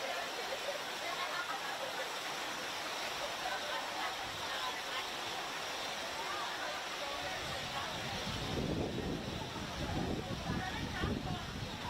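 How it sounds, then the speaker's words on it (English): Driving rain pours down during a football match, a dense steady hiss filling the whole stretch, with a rougher, more turbulent gust of noise toward the end. "A warm shower after this driving rain."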